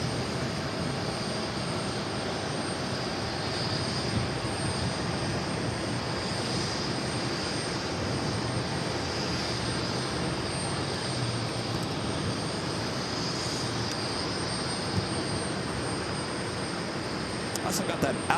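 A jet airliner takes off from runway 4 left at JFK airport in New York, a continuous loud engine roar that holds steady throughout, heard from a distance across the airfield without letup.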